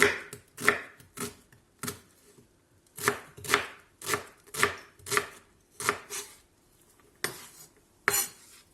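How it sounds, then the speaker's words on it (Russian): Steady, rhythmic knife chops as an onion is diced into cubes on a cutting board, a dozen or so crisp strikes at an even pace, close up with no talking. "Лучок нарезаем кубичком."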